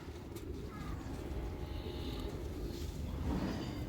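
Highflying pigeons belonging to Ustad Asif Jamal, with soft, faint cooing over a low, busy background hum.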